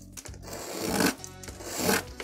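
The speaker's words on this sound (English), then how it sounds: "sanding stick" A sanding stick rasps against wood in two slow strokes, a rough scratchy rubbing that swells and fades, close by with no talking.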